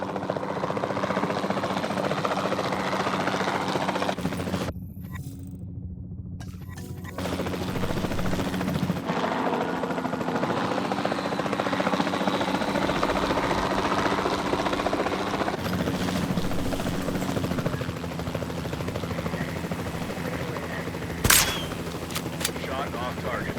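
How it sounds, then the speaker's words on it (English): A capture team helicopter in the video game Jurassic World Evolution 2 drones loudly and steadily throughout, its rotor and engine roar nearly unbroken apart from a brief dip, with a single sharp shot late on. "Then the sensible thing is to take a capture team helicopter."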